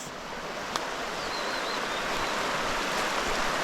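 Water from a waterfall in Salcedo rushes in a steady, broadband roar, moderately faint and continuous, with a brief faint click early on and no talk.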